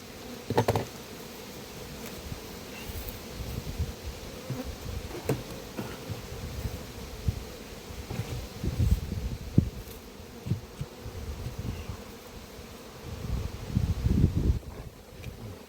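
Honeybees buzz around a hive at an apiary, a steady droning swarm with individual bees passing close to the microphone, light wind noise underneath and no voices.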